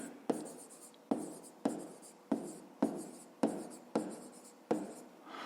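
Pen writing on paper during a fifth-grade maths exercise, close scratchy strokes in a quick series of about eight bursts, each starting with a tap, no talking.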